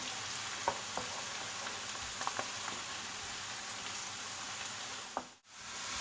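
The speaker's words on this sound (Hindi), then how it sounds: "प्याज को मैं लाइट ब्राउन होने तक फ्राई करूंगी" Onions frying in a pan until light brown for keema pyaz, a steady close sizzling hiss with a few small pops and crackles, briefly dropping out near the end.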